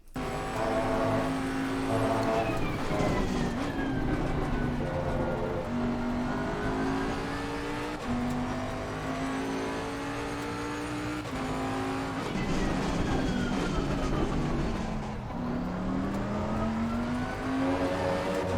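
A race car engine in Assetto Corsa Competizione howls loudly and continuously, the pitch climbing and then dropping at repeated quick short shifts, with no talk.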